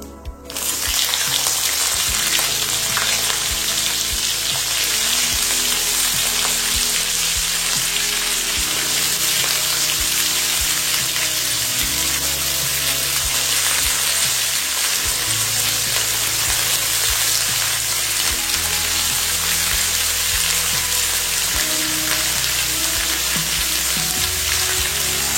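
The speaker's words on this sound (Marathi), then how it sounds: "हे डांगर 2-3 मिनिटं आपण तेलावरती परतून घेणार आहे।" Pumpkin pieces frying in hot oil give a loud, continuous close sizzle that stays dense and even for a long stretch, with occasional faint stirring; no voices.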